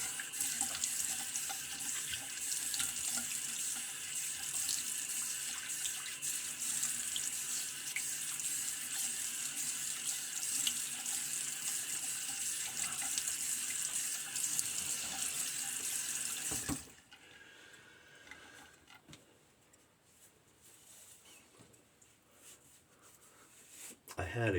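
A bathroom tap runs steadily for a rinse during a wet shave, a broad hissing stream for about seventeen seconds before it shuts off, leaving a quieter room with faint handling noises.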